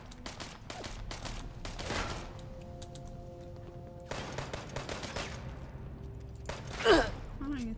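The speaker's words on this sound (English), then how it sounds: "I don't even know where they're shooting from." Enemy gunfire in Fallout 76 crackles in several bursts of fusillade, rising around the middle and again near the end, mixed with game effects and a brief sharp cry-like sound.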